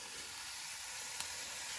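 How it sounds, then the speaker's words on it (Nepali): Potatoes frying in a pan on a stove give a steady, dense sizzle and hiss that runs the whole short stretch, close and even, with no voices. "यहाँ चाहिँ आलु भुटिँदैछ होइन।"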